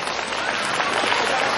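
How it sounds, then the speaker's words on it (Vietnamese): A school ceremony crowd bursts into applause: a brief, dense wash of many hands clapping, steady and fairly loud throughout, with no voices over it. "Đề nghị chúng ta dành một tràng vỗ tay thật lớn ạ."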